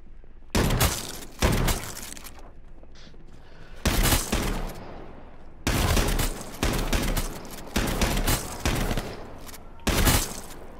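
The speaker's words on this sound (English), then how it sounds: "there's another one shooting at me" Gunfire in the video game H1Z1 comes as loud, close bursts of rapid shots, roughly seven volleys separated by short gaps.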